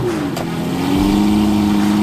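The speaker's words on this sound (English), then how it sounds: "And that is Alex Lambo Jesus' manual Murcielago. That thing sounds so good." A manual Lamborghini Murcielago's engine revs at a car-week gathering, rising into a loud, sustained droning roar that holds steady, heard fairly close over outdoor ambience.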